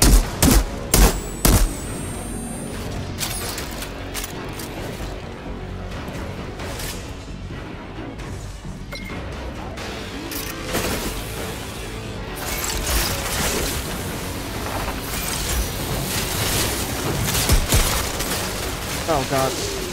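Explosive mortar strikes and gunfire in the shooter game Outriders, with rapid sharp blasts at the start, then dense crashing combat noise running throughout while a player talks over it.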